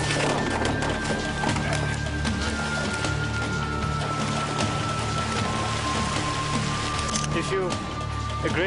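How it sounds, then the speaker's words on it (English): Torrential afternoon rain pours down steadily in the Kalimantan jungle, a dense, continuous hiss of drops on surfaces mixed with a constant engine drone and some faint background voices. "Torrential afternoon downpours make conditions even more hazardous and give a taste of what is to come"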